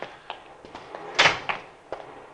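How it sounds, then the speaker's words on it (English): A Cadillac car door is forced open at night, with scattered taps and knocks leading to one sharp, loud metallic clunk, then lighter thuds afterward. "He's forcing the door."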